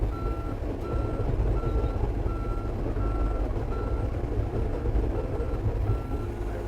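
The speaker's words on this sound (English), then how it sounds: "Now, I'm going to spin this thing back around. Take it in reverse." A mini excavator reverses with a steady rumbling engine while its backup alarm beeps in a regular repeating pattern, loud and close over the continuous machine drone.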